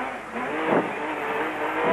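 A brand-new Nissan 4-litre Class SP pickup race truck drives during the Limpopo 400 rally in 2005, its engine revving in a brief, moderately distant surge over rough ground.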